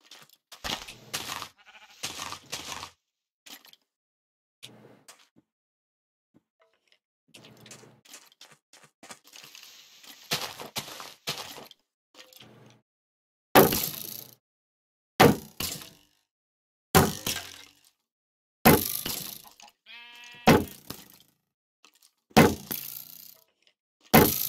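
Sheep in Minecraft give loud, sharp bleats, about seven in a row at irregular gaps of one to two seconds, after a stretch of softer game sounds.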